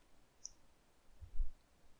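A single soft click from a computer mouse, faint and close in a quiet room, with a small low thump just after.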